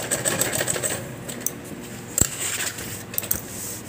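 A sewing machine stitching the handles onto a handmade bag, giving light rapid mechanical ticking with a few sharper clicks and knocks, alone without talk.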